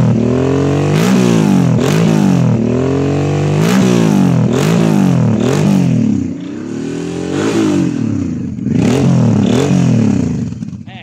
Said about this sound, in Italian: scarico Arrow omologato, montato, che anzi adesso sentiamo un attimo come canta